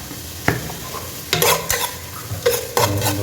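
Cumin seeds are stirred in hot oil for a fish curry, with a few sharp utensil scrapes against the pan over a steady, close sizzle.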